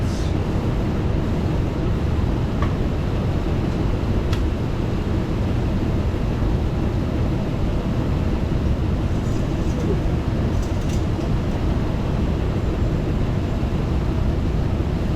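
A Hummer H3 with 131,000 miles idling during a transmission fluid flush, a loud, constant close engine rumble that holds without a break throughout.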